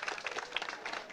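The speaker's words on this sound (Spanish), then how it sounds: "Yo quiero que le demos un fuerte aplauso a la doña." Audience applause for Doña Rosa, a community leader, at a local gathering: dense, steady clapping from a crowd that fills the brief moment, with some voices mixed in.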